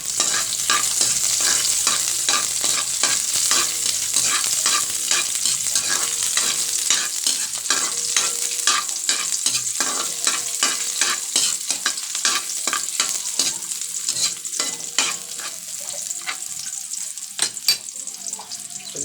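Onions being stir-fried in a pan for sautéed bottle gourd with sardines, a loud bright sizzle under rapid, repeated spatula scrapes and clinks that keep up a busy rhythm, easing slightly near the end.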